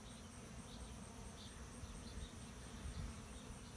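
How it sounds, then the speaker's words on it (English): Honey bees buzz around a hive that has just been moved, a faint, steady hum with a few individual bees passing close by. "there are some forager bees going, where the heck is my house?"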